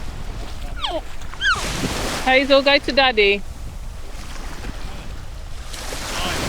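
Sea waves washing in at Jack Sprat beach, Treasure Beach, Jamaica, a steady rushing surf bed with wind noise on the microphone, while family voices call out and talk over it at close range.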